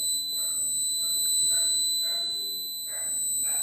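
An accident detection system's alarm buzzer sounds in short repeated pulses, a steady electronic tone with rhythmic bursts, close and fairly loud with no talking.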